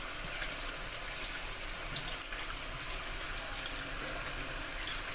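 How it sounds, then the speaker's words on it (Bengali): Steady water pouring and splashing into a container as spice paste is rinsed out while cooking mutton kosha, a continuous broadband wash at moderate level with no voices. "একটু জল দিয়ে এটা ধুয়ে দিই,"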